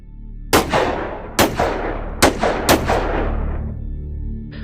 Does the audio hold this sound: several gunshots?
yes